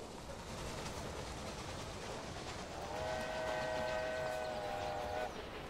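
A train pulls in within the railway video game Railway Empire, rolling with a constant rumbling clatter, then a sustained whistle chord sounds for a couple of seconds before cutting off.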